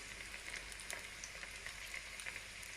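Homemade breaded chicken croquettes frying in oil, a soft, even crackling sizzle with fine popping, steady and quiet, with no voices.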